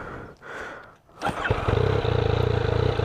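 A 2016 Yamaha MT-09 with its stock exhaust starts after a few quiet mechanical sounds, then settles into a loud, close, lumpy idle with a steady pulsing beat and slight popping.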